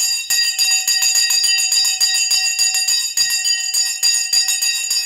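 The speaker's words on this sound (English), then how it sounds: "Here is the Sensei bell." A bell rings rapidly and continuously at the start of a live stock market stream, bright metallic strikes repeating several times per second with long shimmering overtones, loud and close, with no talking.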